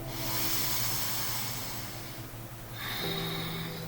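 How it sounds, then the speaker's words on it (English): Slow, deep breaths of a person holding a floor stretch propped on the elbows, a long breathy hiss of exhaling that fades, then a fresh inhale, close and steady with no talking. "Big breaths."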